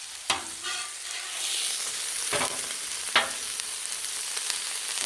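Cajun chicken frying on a flat griddle outdoors in fog, a steady loud sizzle with a few sharp clicks and scrapes of a spatula, no voices.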